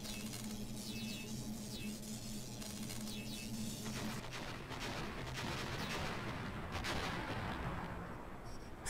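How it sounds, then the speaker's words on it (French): Explosion blowing up a rock in the video game Tombi 2: a dense, loud, rumbling blast texture that continues steadily for several seconds with bursts of crackling debris, with no talking over it. "Ça, c'était de l'explosion"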